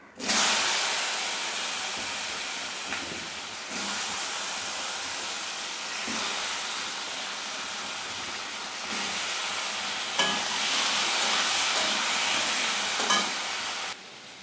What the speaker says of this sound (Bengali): তারপর আমি আলুগুলোকে একটু লাল লাল করে ভেজে নেব